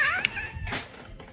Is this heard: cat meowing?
yes